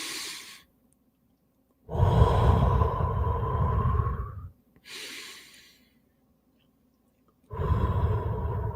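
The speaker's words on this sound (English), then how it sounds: "We're just allowing the oxygen to come through our nose, to settle into our lungs, and to breathe out of our mouth." Slow, deep breaths drawn in through the nose and let out through the mouth during a guided relaxation exercise, long airy inhales and exhales separated by silent pauses, close and clear.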